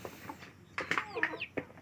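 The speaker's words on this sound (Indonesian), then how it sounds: "ini pejantan kita" A rooster in a chicken coop gives a run of short, close clucks in uneven bursts, with faint background noise between them.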